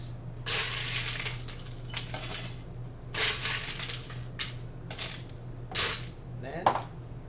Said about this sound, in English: Fill it with ice.